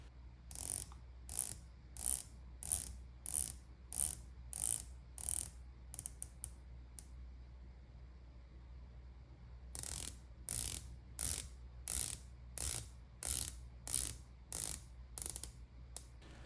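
Two dive watch bezels, one titanium and one stainless steel, rotated in turn: a steady series of sharp, close ratcheting clicks in two runs separated by a brief pause, loud and alone with no talk.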